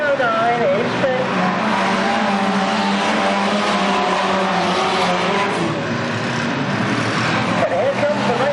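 Banger racing cars roar around an oval track, several engines blaring and whining together at close range with occasional tyre squeal, a dense continuous racing din throughout.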